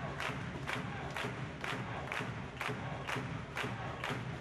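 A crowd of over 1,900 spectators cheers and chants in the Halle Bergfidel during a women's volleyball match between USC Münster and Stuttgart, with rhythmic thumping beats roughly every half second under sustained loud crowd noise.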